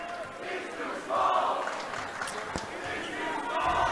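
Spectators in the stands at a boys high school basketball game between Olympus and Alta call out and jeer a player in loud, rising bursts, with an announcer talking over the crowd noise.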